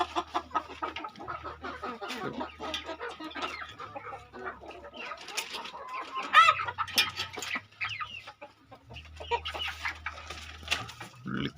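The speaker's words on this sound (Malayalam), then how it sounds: "ഇത് നമ്മുടെ പുള്ളിക്കോഴി കുഞ്ഞുങ്ങളാണ്." Young spotted chickens, about four months old, cluck in quick, uneven bursts at close range, with soft scratching noises between the calls.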